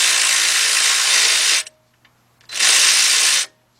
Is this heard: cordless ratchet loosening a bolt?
yes